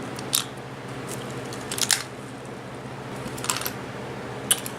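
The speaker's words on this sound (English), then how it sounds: "Here's what's rattling around in there." A loose contact roller rattles inside a prewar Lionel 254 toy locomotive being shaken, giving a few sharp, brief metallic clicks scattered over a steady low background hum, quiet and close.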